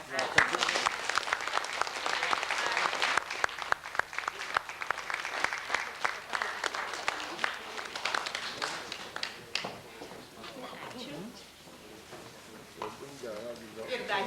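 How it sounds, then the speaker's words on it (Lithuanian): An audience at a school memorial event gives dense, sustained clapping that slowly thins out and fades. A voice speaks briefly under the tail of the applause. "gausus aplodismentai"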